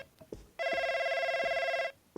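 A telephone rings in the horror video game NightCry, a steady electronic ring lasting over a second, fairly loud and clear against a quiet background with faint thumps before it.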